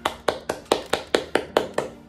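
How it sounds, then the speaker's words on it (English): A single person's hand claps, nine of them at a steady, even pace, close and fairly loud, with no talk. "Can we please give a round of applause to DigiPetty?"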